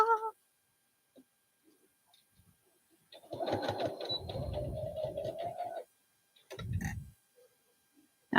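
A home sewing machine stitches the seams of a fabric DIY car trash can in a steady run of about two and a half seconds, with a short burst afterward.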